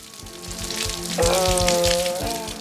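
Steady rain patters and hisses close by, a dense wash of drops with a faint tonal hum underneath.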